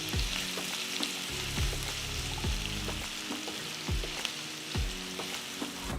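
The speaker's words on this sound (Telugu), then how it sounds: "ఇందులో పొడవుగా తరిగిన 3 ఉల్లిపాయలు వేసి అవి గోల్డెన్ బ్రౌన్ రంగులోకి మారేంత వరకు వేయించాలి" Three long-sliced onions fry in hot oil until golden, a soft steady sizzle with rhythmic stirring strokes scraping the pan roughly once a second, quiet and close.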